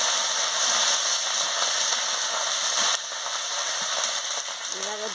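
Vegetables fry with spices in a hot pan, giving a steady, close sizzle with a brief shift in intensity midway and light stirring near the end, with no talking.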